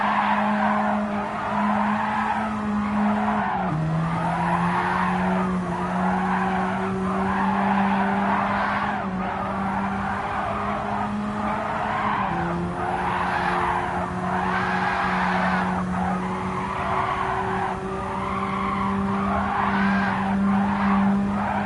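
Race car tires squealing and skidding continuously while drifting in a racing video game on the Road Atlanta circuit, loud and sustained over a steady engine drone, with the pitch shifting as the car swings back and forth.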